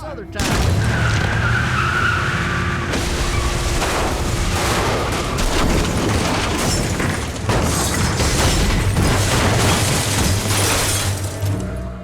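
A car skids and crashes in The Walking Dead video game, with screeching tyres, heavy impacts and shattering debris building into a loud, dense crash sequence over a low music bed.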